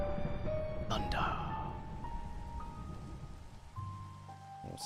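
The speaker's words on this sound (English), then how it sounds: "Thunder." Rain falls steadily in Minecraft with a soft distant thunder rumble, mixed with faint tonal game sounds and chimes.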